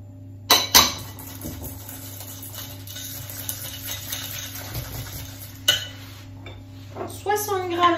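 Almond cake batter being whisked with a spoon in a bowl, scattered light scraping and clinking of the spoon against the bowl over a low steady hum, with a couple of sharper clinks and a speaking voice near the end.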